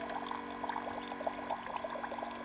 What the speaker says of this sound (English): It's kind of splashing right now.